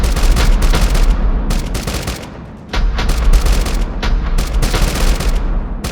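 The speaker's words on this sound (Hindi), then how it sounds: "लगभग 8 बजे दोनों ओर से तोपें चली" Dense, continuous rapid booming and cracking cannon fire from both sides of a battle, British and French guns, loud and relentless, with one brief lull before the barrage resumes.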